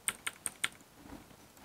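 Typing on a computer keyboard while making a resume: four crisp, evenly spaced key clicks close by, then quiet.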